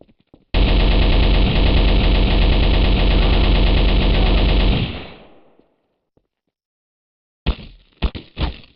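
Submachine gun in a video game film fires one long, loud, unbroken burst of rapid shots for about four seconds, then trails off into silence before a few sharper shots return near the end.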